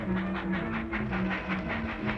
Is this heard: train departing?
yes